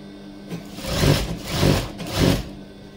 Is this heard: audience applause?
no